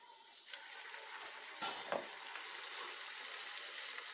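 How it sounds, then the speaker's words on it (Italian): Dough balls fry in hot oil in a pan, giving a continuous fine sizzle and crackle with a couple of brief stirring knocks partway through. No one speaks. "tanto l'olio sta friggendo"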